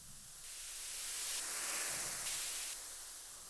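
Broadband white noise swept through a non-linear filter, with its brightness rising to a peak mid-way and then easing back down, a smooth synthetic hiss for drum and bass effects, steady and fairly loud throughout.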